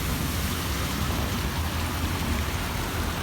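Heavy rain pours down steadily in a continuous, dense hiss with a low rumble underneath, close and even throughout with no voices.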